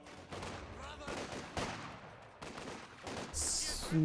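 Penal squad rifle fire in the Company of Heroes 2 strategy game comes as repeated short crackling bursts and volleys, with a louder explosive blast near the end.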